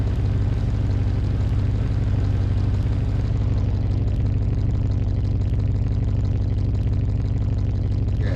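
A car engine idles in Car Mechanic Simulator 2021, a steady loud low rumble that holds evenly throughout with no revving.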